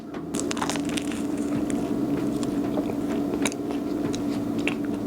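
Crisp bite and chewing of an ube croissant filled with whipped ube cream, close and steady crunching over a constant low room hum, with no talking.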